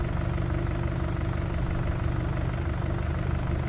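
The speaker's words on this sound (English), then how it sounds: "Come on, tractor." A tractor engine idles in Farming Simulator 19, a steady, loud, low diesel rumble with a constant throb that holds unchanged the whole time, with no voices.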